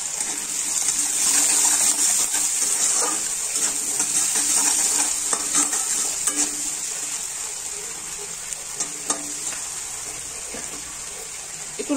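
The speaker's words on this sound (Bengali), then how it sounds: "একটু লাল করে নেব ভাজাটা।" Spiced stuffing of cumin, turmeric and salt fries in a pan for stuffed teasel gourd, giving a steady hiss with scattered scraping clicks from stirring throughout, close up and without speech.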